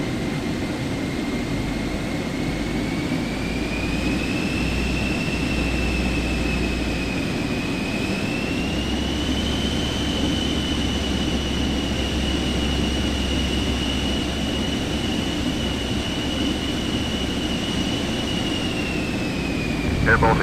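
Jet airliner taxiing in Microsoft Flight Simulator 2024, a steady loud engine whine with a rising and falling tone held throughout, under a continuous low rumble.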